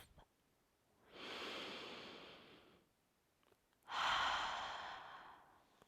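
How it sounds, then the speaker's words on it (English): Two slow, deep breaths during a yoga stretch, a long airy inhale and then a stronger whooshing exhale through the mouth, close and alone without any talk. "Find a giant inhale through your nose,"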